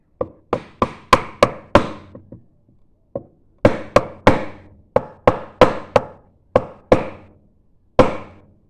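Hand chisel chopping into wood while carving a lowercase letter, giving sharp percussive knocks in quick bursts of four to six strikes separated by short pauses, close and loud with no talk.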